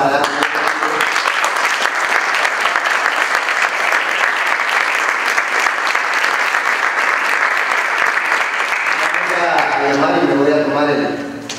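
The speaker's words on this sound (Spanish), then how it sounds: "con ese aplauso que vamos a dar" Sustained audience clapping at an awards ceremony for advertising creativity and a theatre play, a loud, even wash of applause lasting about ten seconds before thinning out as a voice begins to speak.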